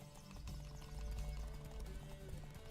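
Horse hooves gallop in The Witcher 3 video game, a quick continuous clip-clop rhythm with low thuds, fairly quiet and alone.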